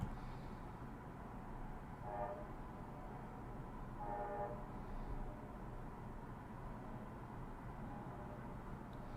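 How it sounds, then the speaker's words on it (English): A train horn sounds from a distance as a train runs on tracks through downtown Orlando, with two short horn blasts rising over a steady low rumble and no talk. "they have to use the horn, because the train track goes right through downtown Orlando"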